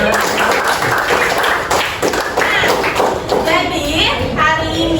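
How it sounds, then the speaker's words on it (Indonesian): Children in an Indonesian classroom clap for a classmate, a loud, close, uneven patter of hand-claps and thumps mixed with kids' voices and chatter. "Kasih tepuk tangan aja dong."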